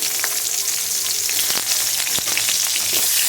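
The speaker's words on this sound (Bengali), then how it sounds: "এই তেলের সাথে হালকা একটু আর একটু তেল নিয়ে নেব আমি হচ্ছে পেঁয়াজ কুচি দিলাম" Chopped onion fries in oil with a loud, dense, continuous sizzle and a few crackles, close up and without any voices.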